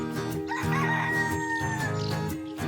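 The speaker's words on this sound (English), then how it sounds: "It's a rooster. I hear a rooster." A rooster crows one long, strained call that rises and trails off, heard over light background music.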